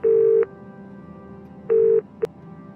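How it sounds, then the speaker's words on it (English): Touch-tone telephone dialing in the Broken Sword 4 adventure game, placing a call to a hotel: two long steady tones a second apart and a brief final beep over a low background hum, with no talk. "go to the phone, call the hotel"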